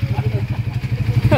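A motorcycle engine just back from an overhaul at a Rosales, Pangasinan shop runs at a steady idle with rhythmic low pulsing, close and loud, with a brief rising rev or squeal at the end.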